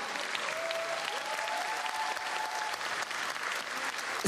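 A concert audience at a folk festival claps in steady, sustained applause that fills the whole stretch, dense and even, with no speech.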